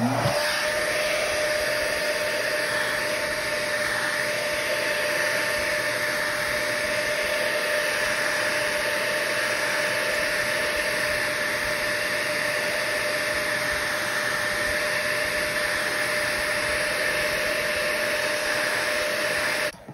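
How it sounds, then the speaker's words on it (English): A heat gun blows steadily and loudly for the full stretch, a constant whooshing hum with a faint high whine, used to melt rose gold embossing powder. "let me say that before I turn on my heat gun"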